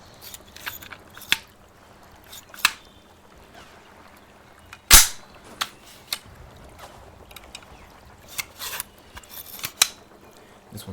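A handgun slide is worked against a heavy recoil spring, giving scattered metallic clicks and scrapes with one sharp loud clack partway through, close and crisp against a quiet background.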